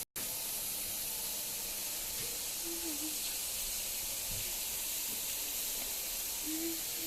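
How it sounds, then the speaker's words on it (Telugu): Onions dropped into about two spoons of hot oil in a heated pan, giving a steady, close broadband sizzle and hiss that holds evenly throughout, with a few faint clinks underneath. "ప్యాన్ హీట్ చేసుకున్నాక ఆనియన్స్ కొంచెం ఆయిల్, ఒక 2 స్పూన్స్ ఆయిల్ వేసి ఆనియన్స్ దానిలో వేయాలి"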